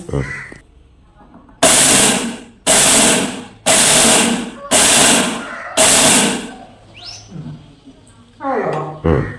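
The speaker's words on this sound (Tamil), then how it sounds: "இப்போ இந்த கம்பை மிக்சியில் போட்டு சும்மா ரெண்டே அந்த மேலு தோலெல்லாம் விட்டுரும்" A kitchen mixer grinder pulses pearl millet to strip the husk, firing in five loud, even bursts of roughly a second each, separated by short silences, with a final weaker burst near the end.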